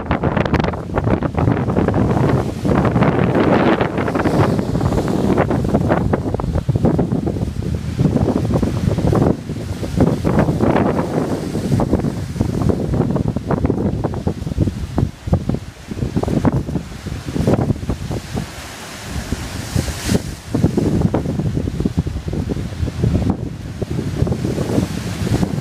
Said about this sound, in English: It's very windy and stormy out.